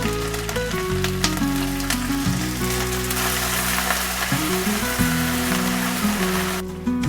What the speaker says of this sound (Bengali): আদাটা দিয়ে বড্ড জল ছেটকায়